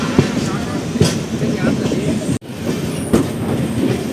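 The Tirupati Express rolls into a platform at Renigunta station. Loud rumbling wheels clatter over rail joints with rhythmic clicks, and there is a sharp momentary dropout midway. Faint voices sit in the background.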